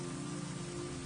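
Steady rain hisses evenly, a dense continuous patter on a surface with no pauses and no voices.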